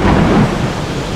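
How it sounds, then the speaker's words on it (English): Heavy rain pours steadily outdoors, a dense loud hiss with a deep rumbling undertone, close and continuous with no voices. "It's raining."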